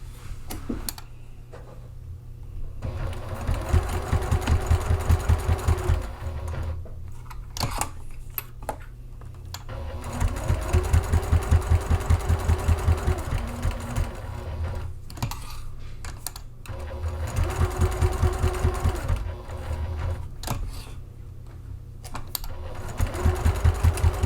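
Sewing machine stitching the exterior panels of a rain jacket, running in several bursts of rapid rhythmic needle clatter separated by pauses with quieter handling noises, close and clear with no talking.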